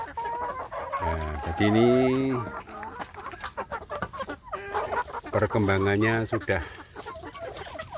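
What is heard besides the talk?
native village chicken chicks clucking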